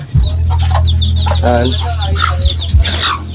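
Backyard chickens, chicks up to hens, clucking and chirping close by over a steady low hum, with someone talking over the birds.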